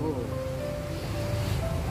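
Continuous wash of seashore waves with wind rushing at the microphone, heard close and steady while voices speak faintly over the surf.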